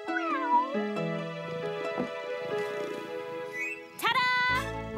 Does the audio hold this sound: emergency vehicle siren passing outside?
no